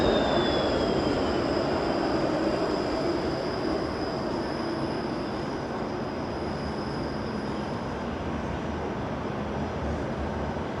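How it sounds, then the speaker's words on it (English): A Toronto streetcar passes on King Street at night, giving a steady, close rumble with a thin high whine and no talk. "There's a training streetcar there. See, we got a trifecta of streetcars."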